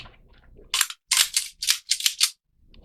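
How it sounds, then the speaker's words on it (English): Metal parts of a Remington 1911 R1 Enhanced pistol scrape and click as the barrel bushing is pushed down and slid into place: six short, close, sharp bursts in quick succession, then quiet. "We have to push it below the bushing and slide the bushing over into place."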